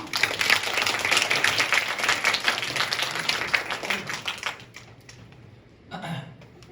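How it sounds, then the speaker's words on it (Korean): An audience at a university club lecture claps in welcome, a full round of applause that thins out and fades toward the end, followed by a faint brief noise. "모두 큰 박수로 환영해주세요."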